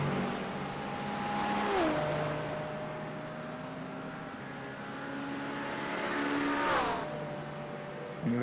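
An Acura and a McLaren race car pass at Road America, two engine notes whining at steady pitch, each with a Doppler drop as the cars rush by, one pass early and another a few seconds later.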